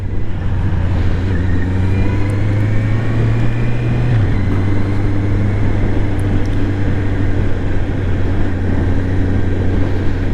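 A 2024 Honda CBR650R E-Clutch motorcycle rides through town with its engine droning steadily and loud alongside wind and road noise, the pitch shifting once partway through, with no talk.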